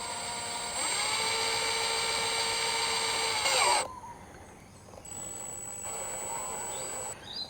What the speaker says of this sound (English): So I take my screw, and just through the mouth of the bottle, just slowly at first so it gets traction.